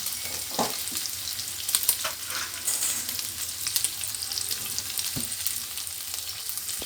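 Diced bacon (boczek) for spaghetti sizzles and crackles in a hot pan as it browns, with a steady hiss broken by occasional stirring clatter and utensil knocks.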